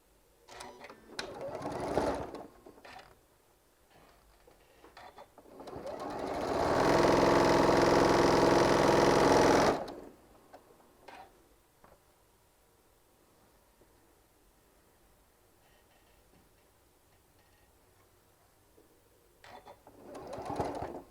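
Sewing machine stitching quilt pieces together for a hummingbird panel, one loud steady run of about three seconds mid-clip, with brief shorter bursts near the start and end and quiet handling between.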